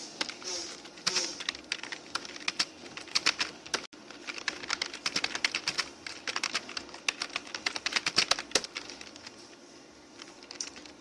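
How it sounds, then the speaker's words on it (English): A computer keyboard clatters in rapid, uneven bursts of keystrokes, close and steady throughout, with pigeons cooing faintly in the background. "You can hear my keyboard."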